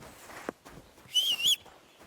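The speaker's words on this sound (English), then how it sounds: "Stop that whistling." Whistling from a character in Kingdom Come: Deliverance II, two short bright warbling phrases heard clearly over quiet game ambience.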